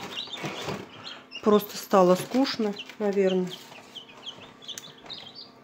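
Newly hatching chicks in a Chinese-made incubator give faint, high peeps beneath someone speaking close by.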